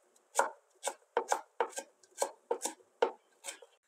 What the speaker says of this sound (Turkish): Bir avuç maydanozu da ufak ufak doğradıktan sonra hemen ocağın başına geçiyoruz